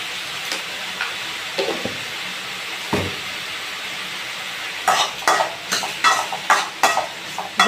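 Brinjal in tamarind curry sizzles softly in a pan, with a spoon scraping and stirring in a quick series of clinks toward the end; no one speaks.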